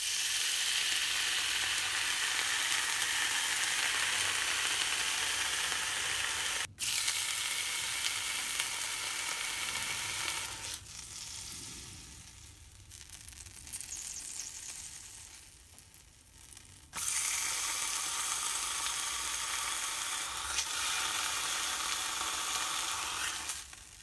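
Ham sizzling on a hot skillet, a loud dense hiss up close that drops away for a few seconds before surging back, with faint clicks and shifts along the way.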